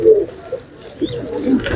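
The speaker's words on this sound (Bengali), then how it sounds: "ছটফট করে খাওয়া শুরু করে দিয়েছে।" Pigeons eagerly eating paddy, soft low cooing repeated several times up close, with light pecking and rustling between calls.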